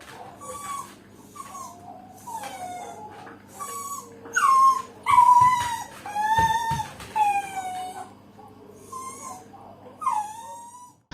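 A neglected young male dog with matted fur whimpers and whines in a series of high, wavering cries, rising at times into short howl-like wails, close and fairly loud over a quiet background with no voices.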